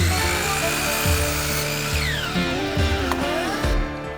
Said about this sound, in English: let's just go ahead and get the feet cut out of our cedar 2x4 here